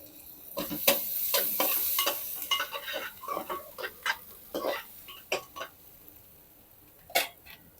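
Chopped onions frying in a pan for pav bhaji, a soft sizzle under a series of sharp spatula stirs and scrapes coming in irregular bursts, fairly quiet and close.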